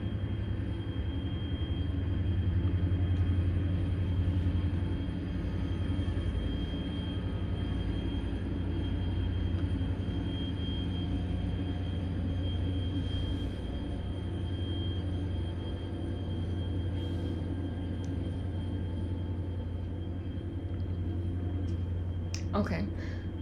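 A train passes nearby with a steady low rumble and droning hum that fills the whole stretch, holding at a constant level under light outdoor background.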